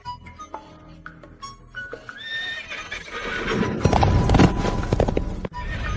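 A gentle, tame horse gives a loud, close whinny while hooves clip-clop in a quickening rhythm, building into busy movement with clinks and scuffs.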